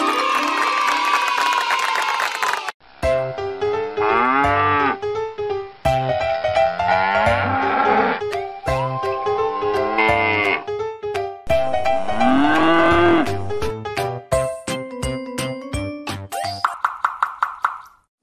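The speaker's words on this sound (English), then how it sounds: "Cow." A cartoonish cow moos several times in a row, loud and close, with a drawn-out lowing call, plops, a bright cheering burst and short jingle sounds in between, as in a children's animal-learning game.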